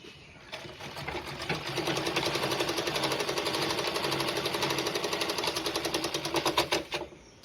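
A sewing machine stitches a slit on fabric in a fast, rapid run of close mechanical clatter that holds steady for several seconds and then slows into a few separate thuds before stopping.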